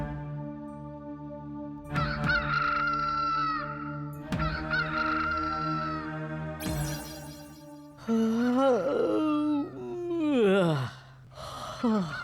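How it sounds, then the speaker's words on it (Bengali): A rooster crows in the morning in an animated setting: a loud, long harmonic call rises and falls, preceded by sustained tonal background sounds. "মোরগটা ঠিক সময় একেবারে ঘুম ভাঙিয়ে দিয়েছে।"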